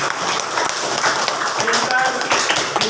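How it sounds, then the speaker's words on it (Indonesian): A class of schoolchildren in an Indonesian classroom claps hands together, producing a patter of quick, uneven claps close by, mixed with voices talking over them. "Oke, tepuk tangannya mana?"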